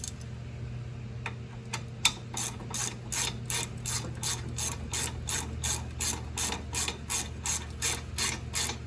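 Ratchet wrench tightening front brake bolts on a Mustang GT during a brake pad and rotor job, a long run of fast, evenly spaced ratcheting clicks, close and loud, with no talking.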